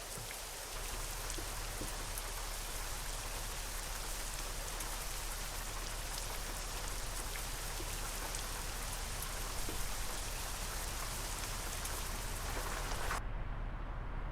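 Steady, heavy rain falls in Euro Truck Simulator 2 during a motor oil delivery run, a dense unbroken hiss that holds at constant loudness and thins out abruptly near the end, with no talk.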